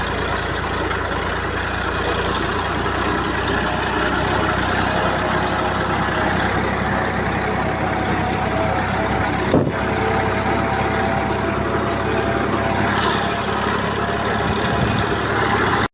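Tractor engine running in a farm field on a wheat-sowing day: a loud, steady, low mechanical drone that holds constant throughout, with one brief knock partway through and no speech.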